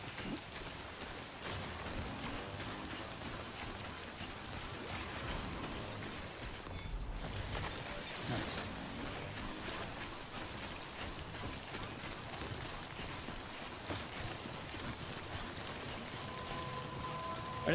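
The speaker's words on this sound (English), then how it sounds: "Why do they have the sprinklers going when it's raining?" Steady rain and sprinklers in the Death Stranding video game make a dense, even patter and hiss throughout, fairly quiet, with a faint tonal hum near the end and no speech.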